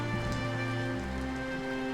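Steady rain falls near a riverside house, a continuous dense patter holding even loudness for the whole stretch, with sustained low tones running beneath it.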